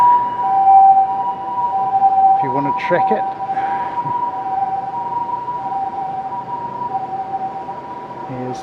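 An ambulance siren sounds as a steady, sustained tone near Okinawa airport, heard at moderate distance under brief talk and ambient outdoor noise.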